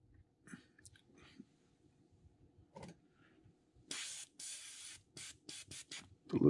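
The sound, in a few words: spray painting a fishing lure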